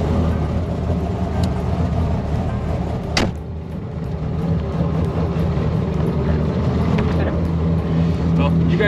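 Steady engine rumble of an 850-horsepower Ford Dentside prerunner truck under way, a continuous loud drone with one brief bump partway through.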